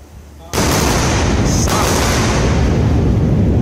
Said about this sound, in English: Double sonic booms.